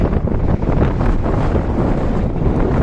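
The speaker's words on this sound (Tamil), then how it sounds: "காற்றுடைய வேகம் அதிகமாக வர வர நம்மளால் கண்ட்ரோல் பண்ண முடியாத அளவுக்கு கடலில் ஆயிடும்" Strong onshore wind roars steadily at the seashore where people are fishing, buffeting the microphone with a loud, continuous rumble and the wash of surf beneath it, with no one speaking.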